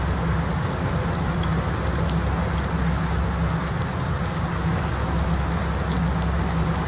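Steady rain pours in the video game Farming Simulator 19, a dense, even hiss with a low rumble beneath it that holds constant throughout, with no voices.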